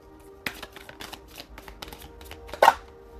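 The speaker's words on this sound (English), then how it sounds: "And as I'm shuffling" A tarot deck being shuffled by hand, a run of close, crisp card slaps and riffles with a louder burst near the end, no voice over it.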